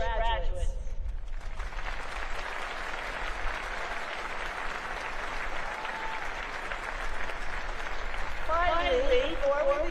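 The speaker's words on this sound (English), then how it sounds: "Please join me in recognizing and applauding these distinguished graduates." Sustained applause from a large audience honoring distinguished graduates at a Naval Academy commencement in Annapolis, a broad steady roar filling the whole stretch, with a voice briefly audible over it near the start and again near the end.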